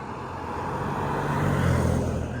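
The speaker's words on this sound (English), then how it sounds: "Cars do come flying around this corner here" A car swings around a corner near a road crossing in Nanga town, a steady engine and tyre roar building and peaking toward the end of the pass, fairly close with no talk.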